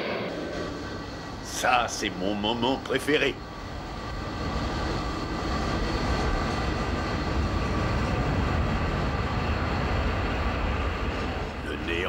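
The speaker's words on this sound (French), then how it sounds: "DC-10, permission de décoller." DC-10 airliner taking off at an airport: a voice speaks briefly in French, then a broad, steady engine roar fills the rest, loud and sustained.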